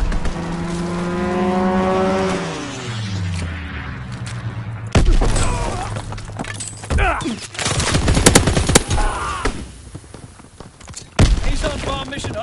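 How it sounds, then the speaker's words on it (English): Video game strafing run on PS4: a descending aircraft engine drone gives way to heavy bursts of machine-gun fire and explosions, loud and close, with in-game radio voices mixed in. "Call for a strafing run."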